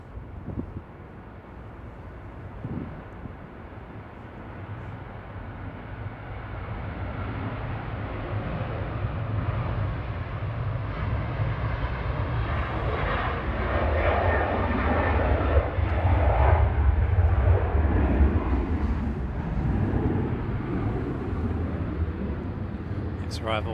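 A Ryanair Boeing 737-800 jet departs Manchester Airport for Milan, its engine roar building steadily and staying loud and broad for the rest of the stretch, with a voice talking over it at times.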